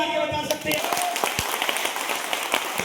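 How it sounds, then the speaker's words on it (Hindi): An audience at a motivational seminar bursts into dense, crackling applause that follows a moment of speech and keeps going to the end. "एक बार तालियां बजा के बता सकते हैं।"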